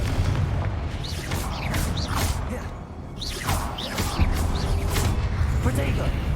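A Confringo fire spell is cast in Hogwarts Legacy, producing loud repeated booming blasts with rushing whooshes over a dense, rumbling game soundscape, while a voice talks over the action.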